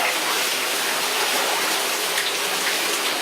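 Waterfall inside Cacupangan Cave, a dense, steady broadband rush of falling water, constant and fairly close, with no voices over it.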